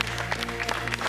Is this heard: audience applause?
yes